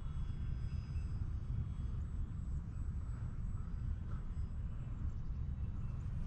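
A radio-controlled model airplane in flight, its engine giving a continuous low droning rumble with a thin high whine, steady and moderately distant throughout.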